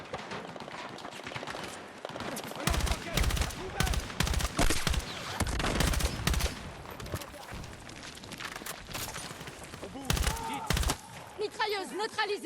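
Machine gun fire in the shooter game Battlefield 6, loud bursts and rapid volleys with heavy impacts, stopping and starting in clusters, with players talking in between.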